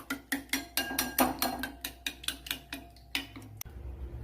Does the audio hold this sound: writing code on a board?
no